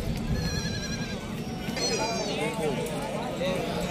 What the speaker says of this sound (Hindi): गुलाबी प्लेट की 2 बकरियां हैं इनके पास।